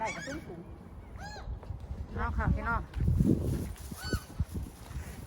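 Geese honking near water while being fed, mixed with ducks, with someone talking over the calls; several bursts of honks come close and fairly loud.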